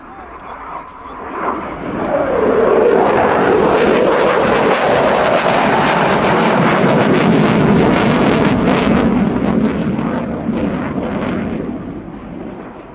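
An RAF Eurofighter Typhoon's jet engines roar up in full afterburner into a loud, sustained rumbling blast that holds steady and then slowly fades, with wind buffeting the microphone.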